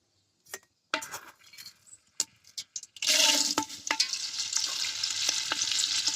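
A utensil scrapes and taps through uncooked rice and bay leaves frying in a pan, with sparse clinks at first. Then a loud, steady, close sizzle takes over, broken by occasional stirring knocks.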